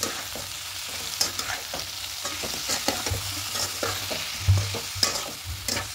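A jujube pickle mixture with Kashmiri chili powder is stirred in a pan, giving a steady, close sizzle with repeated soft scraping strokes of the spoon and no talk.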